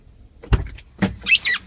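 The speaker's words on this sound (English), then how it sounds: "We have power windows for the rear." Rear power windows of a 2014 Jeep Wrangler Unlimited Sahara whir in short motor bursts, close and fairly quiet, with a few brief pulses and a squeaky whine near the end.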